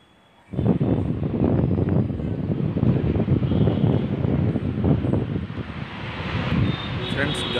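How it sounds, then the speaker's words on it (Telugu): Strong wind blows at an open viewpoint beside the Nagarjuna Sagar Highway near Turkayamjal, Hyderabad, a loud gusty rumble buffeting the microphone that starts abruptly after a quiet moment and continues unbroken. "ఫ్రెండ్స్ గాలి సౌండ్ చూశారు కదా ఎలా వస్తున్నారు."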